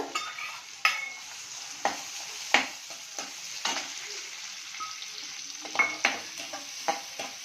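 Onions and green chillies frying in a pan for aloo bonda, a steady soft sizzle broken by the occasional scrape and clink of a spoon stirring.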